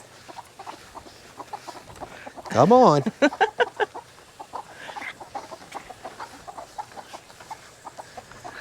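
Hens cluck and squawk in a brief noisy burst, then keep up scattered clucks close by while a person speaks briefly.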